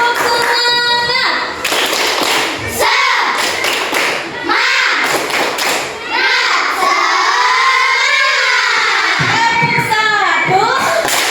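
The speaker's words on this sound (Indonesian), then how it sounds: "Tepuk tangan dulu buat semuanya" Schoolchildren in an Indonesian elementary school classroom clap their hands in bursts of patterned claps and thumps, loud and close, mixed with shouting children and an adult voice talking.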